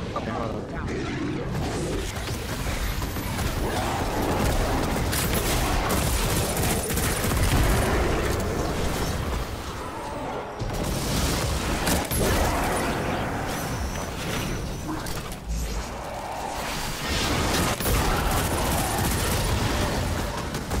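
An exotic gun in a shooter video game fires in dense, continuous bursts with heavy rattling gunfire throughout, players talking over the shots.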